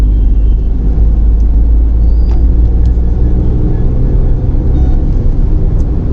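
Car engine pulls hard in gear under acceleration, a loud, close, continuous rumble and whir from inside the cabin that stays strong throughout with no speech.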